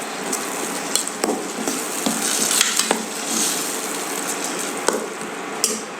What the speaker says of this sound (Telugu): ఇప్పుడు మనం మిక్సీ వేసుకున్న ఆ గోంగూర అంతా కూడా వేసేస్తామండి